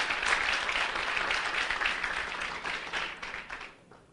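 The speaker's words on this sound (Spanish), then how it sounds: "vamos a aplaudir la persona del Espíritu Santo que está presente acá" A congregation at a religious teaching session applauds with dense, steady clapping for about four seconds before it quickly dies away.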